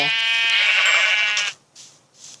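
A Minecraft sheep gives one loud, close bleat lasting over a second, followed by two short faint sounds.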